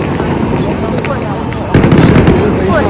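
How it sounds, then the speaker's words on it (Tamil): Firecrackers burst again and again at a New Year celebration in Suzhou, China, loud crackling pops that swell partway through, with people talking over the din. "ஒரு பக்கம் பட்டாசு அடிக்குது"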